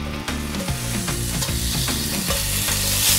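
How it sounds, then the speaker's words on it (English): Bacon frying in a hot pot, a loud dense sizzle and crackle close up, with rhythmic scraping and stirring knocks on the pot throughout. "You're gonna let this cook, get it nice and crispy."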